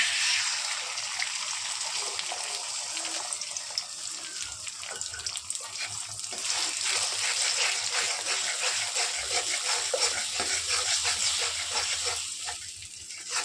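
An egg fries in a pan while pasta is being made, giving a loud, steady, hissing sizzle that runs throughout without a break.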